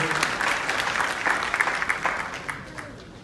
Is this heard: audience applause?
yes